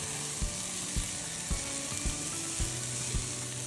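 Codfish rice ingredients with chopped tomato fry in a pan, a steady close sizzle punctuated by regular clacks of stirring, about two per second.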